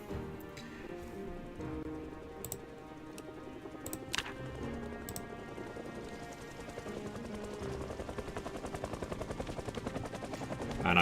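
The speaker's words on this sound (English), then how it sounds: "And now I can hear the rotor blades of the helicopter." Helicopter rotor blades in the video game Project Zomboid, a steady low rhythmic chop running through the whole stretch, with scattered sharp ticks and clicks over it and no talk.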